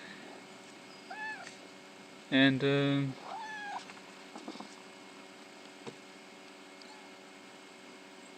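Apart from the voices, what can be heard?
cats meowing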